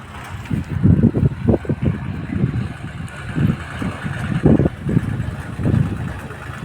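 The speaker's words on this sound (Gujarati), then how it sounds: "ટ્રેક્ટર આવી ગયું." Farm tractor arriving with its engine running, a low uneven rumbling chug that swells and fades in pulses, fairly close, with little else around it.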